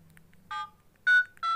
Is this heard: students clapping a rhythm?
no